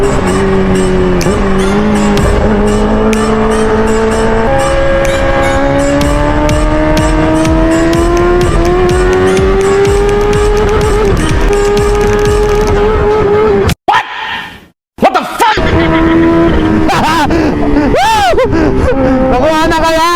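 A Kawasaki H2 Carbon motorcycle accelerating hard in second gear, its loud engine whine climbing steadily in pitch, a brief drop near the end before the roar resumes.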